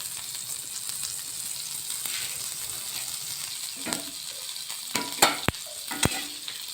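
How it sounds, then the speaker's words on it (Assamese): Butter sizzles in a frying pan with a soft, continuous crackle. A few sharp clinks and scrapes of cookware cut in near the end. "এতিয়া এখন ধুনীয়াকৈ ইয়াত ফ্ৰাই হ'ব দিম"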